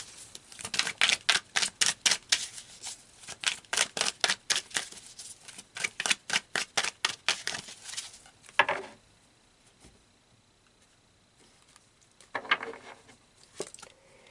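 Tarot cards shuffled by hand in a rapid, rhythmic series of close riffling bursts, followed by quieter slides and rustles as cards are pulled from the deck, with no talking.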